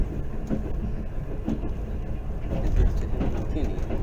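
Passenger train in Pakistan running through a station without stopping, a steady loud rumble with rhythmic rail clatter, heard from close by as if from on board.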